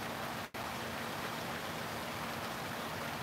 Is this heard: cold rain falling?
yes